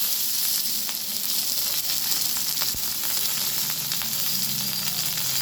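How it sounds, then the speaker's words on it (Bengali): Cumin seeds, green chilies and bay leaves crackle in hot oil left after frying pea koftas, a steady, loud, close sizzle that holds without a break. "ওই তেলের মধ্যে আমি দিয়ে দিচ্ছি জিরে ফোড়ন আর দিয়ে দিলাম কাঁচা লঙ্কা তেজপাতা ফোড়ন"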